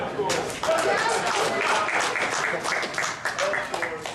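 A meeting audience applauds Wendell for a top race time, a steady wash of clapping throughout with voices mixed in.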